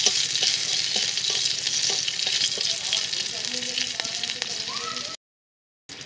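Slit green chillies fry in a wok of hot oil, a loud continuous sizzle and crackle with light tapping stirs, cutting out abruptly near the end.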